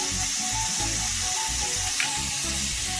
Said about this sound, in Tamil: வணக்கன ஆயிலேயே அப்படியே வந்து வெங்காயத்தையும் தக்காளியையும் போட்டுக்கோங்க